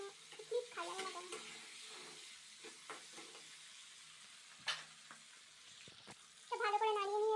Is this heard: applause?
no